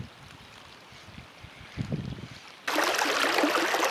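Water rushing through a narrow channel in a shallow river with a strong current; faint flowing at first, then a sudden loud, close, continuous rush of water.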